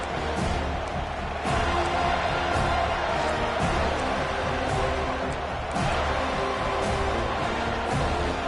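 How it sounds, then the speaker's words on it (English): A college football stadium crowd roars in a sustained wall of cheering, swelling with sharper bursts of noise now and then, loud and broad throughout. "Listen to this crowd just shaking the girders of this place trying to help their defense."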